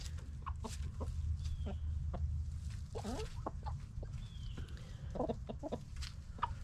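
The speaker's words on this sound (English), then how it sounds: "So that is our new rooster and one of our older laying hens" A new rooster and an older laying hen cluck in a chicken yard, scattered sharp calls over steady low outdoor noise and rustling, close by.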